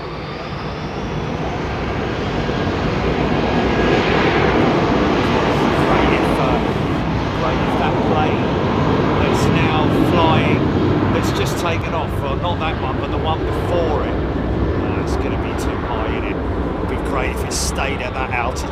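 An airliner passes at London Heathrow Airport, its roar swelling and holding loud before easing slightly, with people talking over it.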